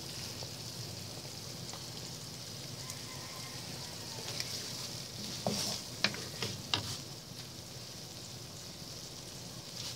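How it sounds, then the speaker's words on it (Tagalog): Creamy tuna carbonara sauce stirred in a pan, a steady soft sizzle running throughout with a few sharper scraping clicks of the utensil near the middle. "Yan, medyo haluin natin."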